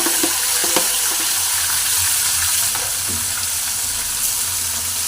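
Chopped tomatoes and crushed garlic frying in oil, a steady, close crackling sizzle with a few stirring clinks and scrapes, no voices.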